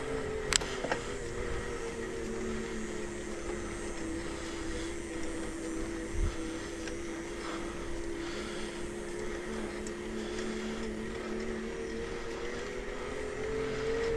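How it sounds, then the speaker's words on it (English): The hub motor of a Denago Cruiser 1 step-thru electric beach cruiser bike runs with a soft, steady electric whine and a low hum. The tone holds level throughout, fairly quiet and close, with no talking. "I'm just gonna let you listen to the motor so you can kind of hear there's a soft, you know, kind of sound coming from it."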